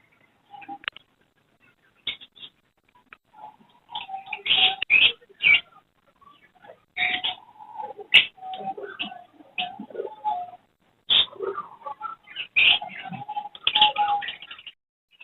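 Pigeons coo and small birds chirp at a Sunday bird market in Chichawatni, calls arriving in irregular bursts, some close and loud, with quiet gaps between them.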